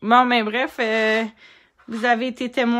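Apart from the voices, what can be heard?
No distinct noise like a dog, phone or traffic.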